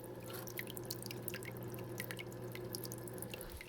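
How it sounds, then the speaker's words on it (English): A Marineland Emperor 450 aquarium filter splashes water continuously, a close, quiet patter of small drips and trickles over a steady low hum from a nearby running air pump, with no voices. "All you hear is splash noise from it."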